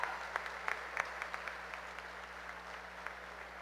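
An audience at a national bolero contest in Caicedonia gives a modest, steady round of applause, with sparse individual claps standing out from a soft continuous patter in a hall.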